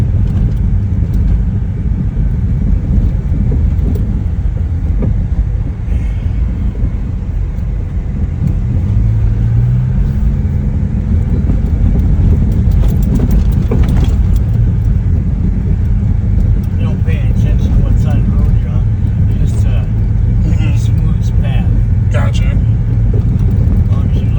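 Small car driving on back roads, with a steady low engine and road rumble throughout and occasional light rises, while people talk inside the cabin.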